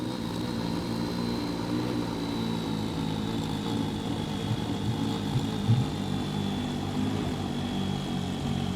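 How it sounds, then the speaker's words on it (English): Race car engine idling in Assetto Corsa while the engine map is switched, a steady low droning hum with a faint high whine, even and continuous with a slight shift in tone, no talk. "And take a listen to the idle as I change engine maps."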